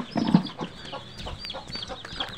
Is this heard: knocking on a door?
no